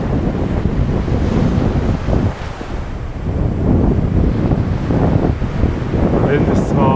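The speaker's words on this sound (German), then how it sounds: "Der Wind ist zwar spürig" Strong wind buffets the microphone on the beach at Usedom on the Baltic coast, a steady loud rush with surf blended in, continuous for the whole stretch without pause.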